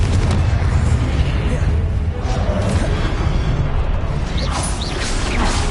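Confringo blasting spell in Hogwarts Legacy, heavy booming explosions rumbling continuously and loudly through the whole stretch, with dense low-end roar, mechanical creaks and faint voice-like sounds in the mix.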